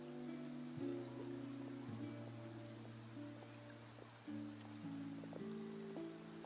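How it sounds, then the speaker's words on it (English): Rain falls in the video game Genshin Impact as a steady, even hiss running the whole time beneath sustained, layered game music. "Looks like rain."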